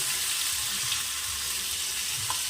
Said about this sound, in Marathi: मसाला थोडा उरला होता मी आता यामध्ये तेलामध्ये ॲड करते